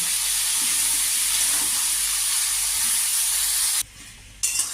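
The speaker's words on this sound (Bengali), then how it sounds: "এবার আমি কিছুক্ষণ নাড়ব এই সবজিগুলো একটু ভাজা ভাজা হবে" Mixed vegetables and prawns fry in a pan while being stirred, giving a loud, steady sizzle that drops away briefly near the end before returning.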